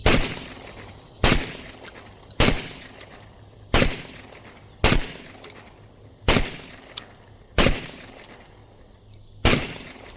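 Eight loud shotgun blasts from a Beretta A300 Ultima Patrol, fired at a steady pace about every second and a half, each a sharp crack with a short decaying tail and no talking between them.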